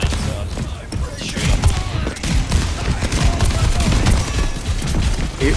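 Continuous gunfire in the hero shooter Overwatch 2, with rapid, overlapping shots and impacts forming a loud, busy barrage amid hectic in-game effects, as a player speaks.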